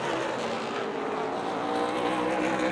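Stock cars racing at Rockford Speedway in an ARCA Midwest Tour event, a steady loud roar of engines running together on track for the whole stretch, with no break and no voices.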